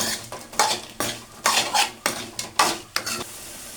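Spoon clanks and scrapes against a metal pan while food with asafoetida is stirred, in bursts of repeated knocks and scraping strokes with a light sizzle beneath, then a brief quiet stretch at the end.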